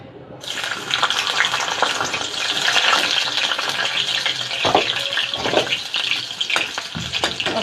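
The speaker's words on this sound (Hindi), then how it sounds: "अब ये सबसे पहले तो मैं ये भुजिया छोकूंगी" Radish bhujia with garlic is tempered in hot oil in a pan, giving a loud, steady sizzle that starts abruptly, with occasional stirring clinks and no talking.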